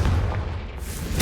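A Confringo blast spell explodes in Hogwarts Legacy, a sustained low booming rumble that fills the moment, loud and close with no talk.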